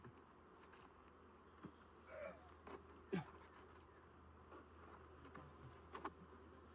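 Honeybees buzz around an opened hive during an inspection, faint close insect buzzing with brief louder passes as individual bees fly near, over a quiet background.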